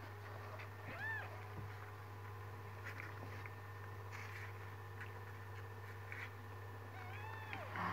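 A faint, high kitten mew sounds twice, once near the start and once near the end, over a low steady hum in a quiet room.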